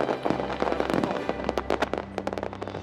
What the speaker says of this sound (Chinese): 随着光彩绚丽的烟花在广大的黑幕上划过天际